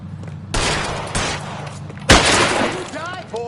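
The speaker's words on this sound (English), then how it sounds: "Keep shooting, I want him dead!" Gunfire in the video game L.A. Noire: a couple of sharp, loud shot bursts with ringing debris and a shattering crack, over a low steady hum with voices briefly audible.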